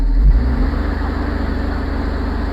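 A diesel engine on a Househam Air Ride crop sprayer rises as throttle is applied, then settles into a steady, loud, close-up throbbing drone with a pulsing low beat.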